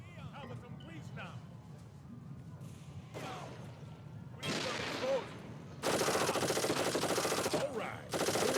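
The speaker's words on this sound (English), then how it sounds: "Arguably the worst auto turret in history." An auto turret firing in the video game Darkest of Days: sustained rapid bursts of automatic gunfire, loud and dense, with someone talking over the shooting.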